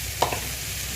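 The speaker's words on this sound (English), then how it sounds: "You can hear the bacon start to sizzle. You got to keep stirring." Bacon sizzles in a pot as it is stirred, a soft steady frying hiss with a brief clink of the spoon against the pot.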